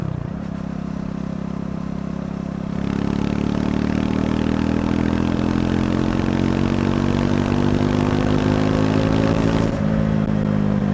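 A Triumph Scrambler 400 X motorcycle engine drones steadily, then the revs climb smoothly to around 6,000 and hold high before easing back as the bike rides on.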